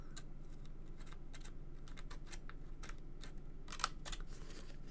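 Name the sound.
scissors snipping paper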